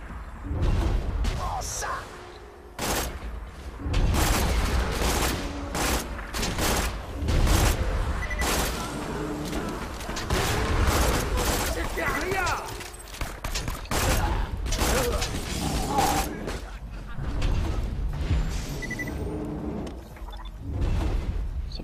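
Repeated gunshots from a gun in Borderlands 2, a steady run of sharp cracks and bursts throughout, with someone talking over the shooting.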